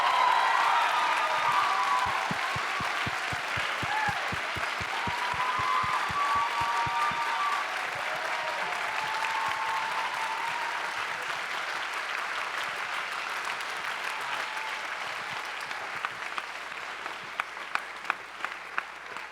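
An audience at a 2023 high school spring band concert applauds loudly and steadily, a dense wash of clapping that thins slightly toward the end with a few last distinct claps.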